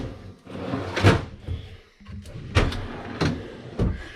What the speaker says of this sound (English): Look at these pull-out trays.